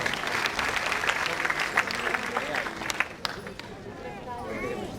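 An audience at a community Shivrajyabhishek cultural programme in Pune claps for the performers: a dense, lively round of applause mixed with crowd murmur and scattered voices, tapering slightly toward the end.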